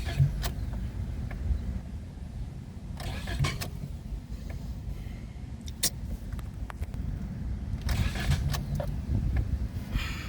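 A 2017 Toyota Corolla with an intermittent no-start fault cranks steadily without catching, a continuous low whirring drone running the whole time with a few sharp clicks and bursts along the way.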